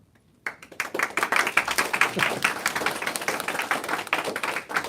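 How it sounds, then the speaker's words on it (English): Clapping breaks out suddenly after a short silence at a lecture's Q&A, a small group of hands patting in a quick, uneven rhythm that carries on steadily to the end. "Why are you clapping?"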